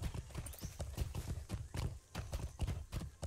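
Horse hooves clip-clop at a steady trot in the fantasy game LOTRO, with a rhythmic run of sharp, close, fairly loud footfalls and no talking.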